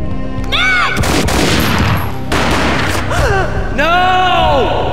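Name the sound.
gunshot in the video game Max Payne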